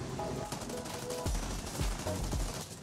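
Machine guns on a P-40 Warhawk fighter in the War Thunder flight game, short rapid bursts of fire over steady engine drone, with a few thumping impacts.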